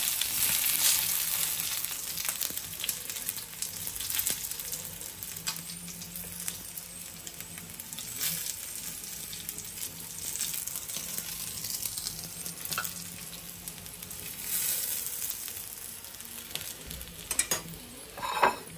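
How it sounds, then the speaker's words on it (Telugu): Chicken leg pieces fry in a pan with a steady, close sizzle and crackle that runs throughout, broken by occasional stirring and utensil clinks. "సో ఇలా రెండు పక్కల బాగా వేయించుకోవాలి"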